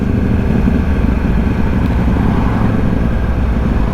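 Yamaha R1 sport motorcycle on a night ride through South London, its engine a loud, steady, close drone with heavy wind rumble throughout.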